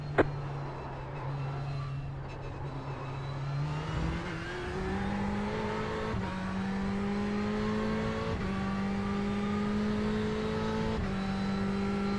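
A race car in the iRacing simulator on the Suzuka circuit, likely an IMSA-class car: a loud, steady engine drone that climbs through repeated upshifts, each gear change marked by a brief dip before the pitch rises again, with no talking.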